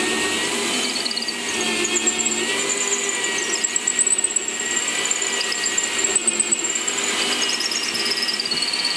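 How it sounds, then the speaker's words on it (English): A power drill bores holes in a laminated outdoor table, a loud continuous whirring whine with a high squealing tone that wavers slightly as the bit cuts, close and steady throughout. "Set my back guard here so that the holes will be in the center each time."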